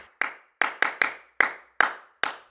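Seven dry, close-miked sampled hand claps from the El Clapo clap library, sharp single hits in an uneven rhythm, each with a short decay and no room ambience.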